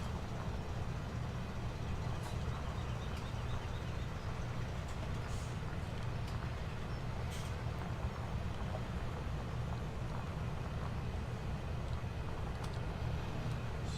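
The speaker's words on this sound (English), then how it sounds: "Let's drop our plow on down and get to plowing this field up." A tractor pulling a plow across a field in the video game Farming Simulator 17, a steady low engine drone rumbling continuously with faint mechanical clicks, no talking.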